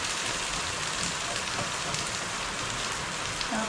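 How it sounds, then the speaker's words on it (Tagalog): Steady rain falling and pattering on a surface, a continuous dense hiss with no voices. "Hanggang ngayon ay ulan pa guys."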